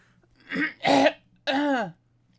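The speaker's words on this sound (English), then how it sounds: "coughing on the little bit that went the wrong way" Three harsh, throaty coughs in quick succession, close by, with a brief gap before the last one and near silence around them.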